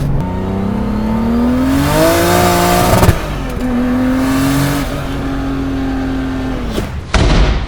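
A turbocharged, modified flame-spitting BMW E36 M3 revs hard in two long, rising pulls. Sharp exhaust pops and crackles come between the pulls, loud and close.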